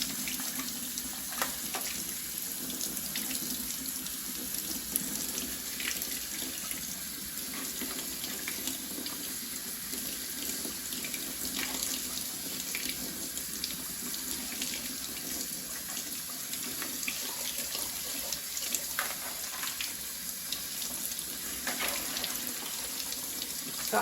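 Cold tap water runs into a sink over frozen shrimp to thaw them, a steady, unbroken rushing stream at moderate loudness that continues throughout with no voices.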